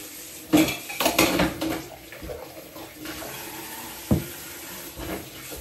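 Dishes and cutlery being washed at a home kitchen sink in New Zealand, with clinks and clatter of plates and utensils over running tap water, busiest in the first two seconds with scattered knocks later.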